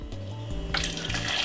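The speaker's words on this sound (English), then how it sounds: "roughly a glass of hot water." Hot water is poured from a glass into a pan, a short close gush and splash in a kitchen.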